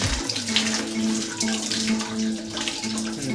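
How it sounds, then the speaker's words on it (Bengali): Water runs from the tap of a Bajaj Caldia water heater in a steady, close splashing gush. A faint tonal hum runs beneath the flow, and no one speaks. "এই যে খুলছি, ফার্স্টে পাইপের ভেতরের ঠান্ডা জলটা, ফার্স্টে পাইপের ঠান্ডা জলটা আসছে"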